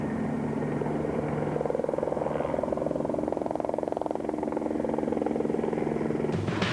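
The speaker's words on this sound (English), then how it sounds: "an impromptu helicopter display from one of the organisation pilots." Helicopter flying an impromptu display at the Tunisia Rally, a continuous rotor thrum and turbine whine that swells and fades slightly as it moves, steady and moderately loud throughout.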